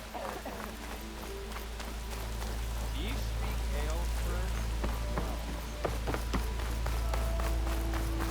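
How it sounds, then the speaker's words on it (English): Steady rain falls in the video game Horizon Forbidden West, a constant wash of patter on surfaces with scattered drops, along with footsteps and a voice speaking over it. "There's the rain."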